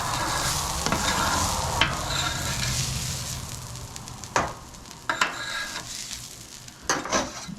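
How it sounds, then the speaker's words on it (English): Tricolor coleslaw mix sizzles and fries in a pot for hamburger soup, a steady broadband hiss with several sharp stirring scrapes and clatters of a utensil, close and fairly loud, no talking. "Tricolor coleslaw mix. What a great way to repurpose coleslaw mix. In the pot we go."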